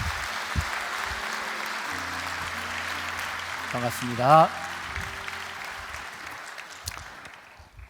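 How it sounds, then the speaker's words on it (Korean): A church congregation applauds to welcome a pastor: a steady wash of clapping that runs through the clip and slowly fades, with a voice briefly speaking partway through. "오늘의 주인공 강일성 목사님을 박수로 맞이하도록 하겠습니다."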